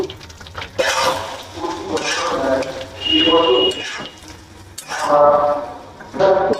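A spatula stirs and scrapes paneer and peas around a pan in bursts, with sizzling frying beneath the clatter, close and fairly loud.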